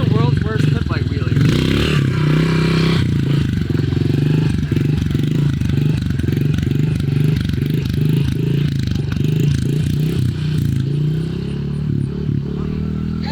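A pit bike engine revving hard in second gear during a wheelie, with rhythmic pulsing surges and some clatter, loud and close, while people talk over it.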